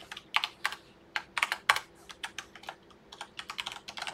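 Code being typed on a computer keyboard, a steady run of crisp close key clicks in quick bursts with short pauses, no voice.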